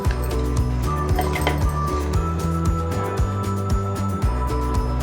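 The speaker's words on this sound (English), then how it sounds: "and close the lid." A lid set down on a cooking pot of mutton kheema gives a few light metallic clinks and taps, close by, over steady background music.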